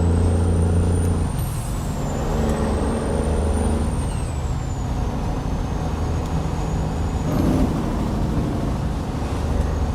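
A heavy truck in American Truck Simulator, heard from outside the cab during a convoy, drones loudly and steadily for the whole stretch, with a high thin whine gliding above the engine rumble.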